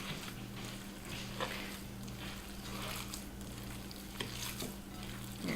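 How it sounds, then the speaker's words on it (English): Meatball mixture with grated Parmesan and breadcrumbs is worked together by hand, giving soft, wet squishing and stirring sounds with faint irregular pats. The sound is low and continuous, close by, with a steady hum underneath. "I'm gonna mix it all together with my hands"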